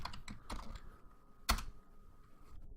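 Computer keyboard being typed on, a short burst of soft key clicks followed by one louder key strike, then near quiet, faint and close with no talk.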